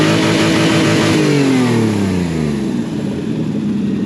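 A 2001 Nissan Pathfinder R50 with a crudely repaired exhaust revs loud and close, its engine note sweeping downward as the revs fall, then settling into a steady rumble.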